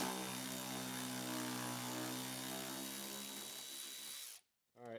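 A power drill or impact driver spins out a 10mm bolt on a Tesla Model 3 bumper, a steady loud whirring whine that runs for about four seconds, then stops abruptly, followed by a brief short burst.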